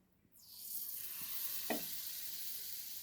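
Banana fritters fry in hot oil over medium heat, with a steady soft sizzle that swells after a quiet start and one small pop partway through.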